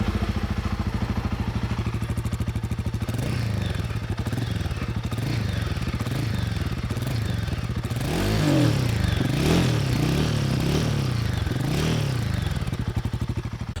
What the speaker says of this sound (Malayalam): സോ ആ എക്സോസ്റ്റ് നോട്ട് നമുക്ക് കേട്ടോക്കാം.